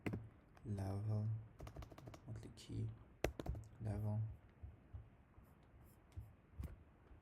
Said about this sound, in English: Let me just type monthly key level.